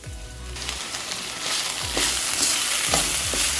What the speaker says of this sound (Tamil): ரெண்டு நிமிஷம் பீன்ஸ் எண்ணெயிலே கொஞ்சம் வதங்கிட்டோம்.